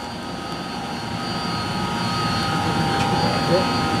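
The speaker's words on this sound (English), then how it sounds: "these are those exhaust fans" Building exhaust fans in the rooftop Otis traction elevator machine room of the Marriott Marquis hotel in Atlanta, Georgia, near a chiller and expansion tanks, give a steady, broadband roar with a faint tonal hum, loud and constant throughout.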